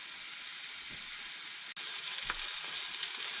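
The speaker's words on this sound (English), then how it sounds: "watch our sausage here, and get that cooked through before we move on to the next step" Sausage patties fry in a pan with a steady, dense sizzle and hiss, close and even, with a brief dropout midway and occasional small pops.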